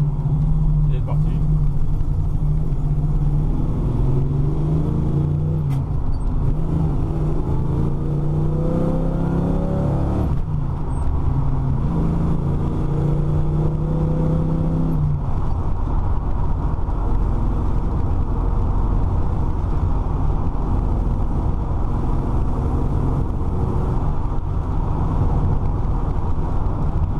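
A 1968 Chevrolet Camaro accelerating on the road, engine note climbing through repeated rising sweeps with gear changes, heard from inside over wind and road rumble while someone talks in French.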